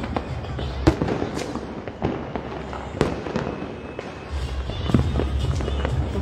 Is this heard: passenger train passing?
no